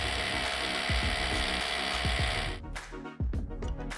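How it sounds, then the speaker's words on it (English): A hand ratchet tightens masonry bolts through a steel bracket into a concrete basin wall, giving a steady fast clicking run of pawl clicks close up, then a pause and a few shorter bursts of clicks. "using the ratchet, secure the masonry bolts through the bracket into the basin wall and tighten to secure"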